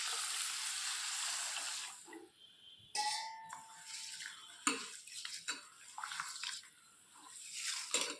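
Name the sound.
washing soaked lentils with water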